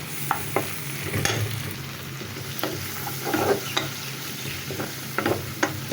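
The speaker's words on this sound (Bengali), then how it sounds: "তো আদা রসুন বাটাটা আমি হালকা একটু ভেজে নিচ্ছি" Ginger-garlic paste frying with browned onions in a pan, a steady close sizzle punctuated by repeated scraping strokes of a spoon, with no one talking.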